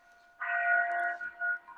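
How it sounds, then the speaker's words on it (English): A church bell rings at the St. John Vianney aid station near Flagstaff; a single clear bell strike swells and rings on, fairly close, with a slight wavering decay. "And we must be at the top of the hour as the church bells ring at the St."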